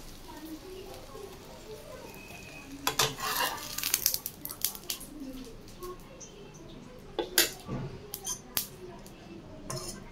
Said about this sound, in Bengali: আমি মেয়ের জন্য প্যানকেক বানিয়ে দিচ্ছি